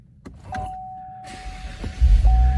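Clicks and a thin electric whine, then a 2017 Cadillac ATS-V engine cranks and catches with a deep, close rumble settling into idle.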